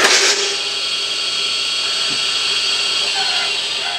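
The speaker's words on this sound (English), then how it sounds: "we're going to run the three-phase squirrel cage induction motor with the pulleys not properly aligned" A three-phase squirrel cage induction motor running with its belt-drive pulleys misaligned gives a loud, steady, close-up mechanical whir and whine that holds at an even level for the whole stretch, with no one speaking.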